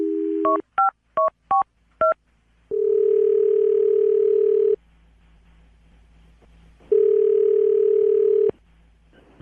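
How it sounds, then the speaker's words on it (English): A landline phone sounds a steady dial tone, then a quick run of short touch-tone beeps as a number is punched in, followed by two long ringback tones separated by near silence. "I'm going to dial the phone number right now."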